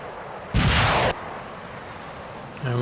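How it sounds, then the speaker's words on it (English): Missiles launch from F-35 jets in the naval strategy game Naval War: Arctic Circle, a single loud half-second whoosh-blast, followed by quiet background and the start of another sound at the end. "we've got some more F-35s launching more missiles against the Tupolevs"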